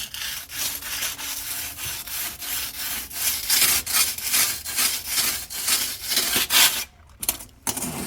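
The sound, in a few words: rubbing a cleaning stone across oven enamel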